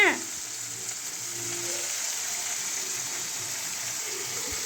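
Upma ingredients being stirred and sautéed in a pan give a quiet, even sizzle that runs on steadily, with a light clatter at the start.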